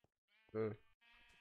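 A sheep in the Minecraft video game bleats once, a short clear harmonic baa, followed by a fainter second bleat, with no other sounds around it.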